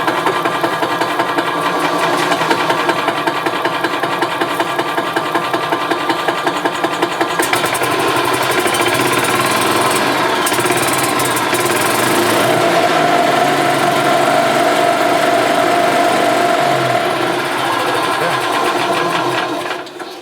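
A 1998 Yamaha G16 gas golf cart engine cranks, catches and runs steadily. The small engine produces a loud, buzzy, rapid rhythmic putter that holds even and close for about twenty seconds before cutting off.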